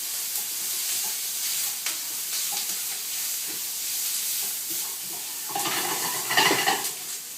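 Spices, including cayenne, stirred into a sizzling pan: a steady hissing fry with scraping strokes of a utensil, the sizzle swelling louder near the end, no voices.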